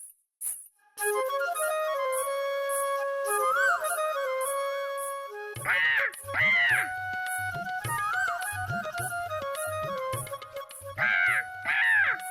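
Crows at a zoo caw harshly in short repeated bursts, loud and near, over a steady backdrop of tinkling music.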